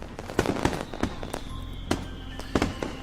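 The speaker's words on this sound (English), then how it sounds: "technicolor fireworks bursting overhead" Fireworks in a visual novel game burst overhead in a string of sharp, crackling pops at irregular intervals over a steady low rumble, moderately loud with no voices.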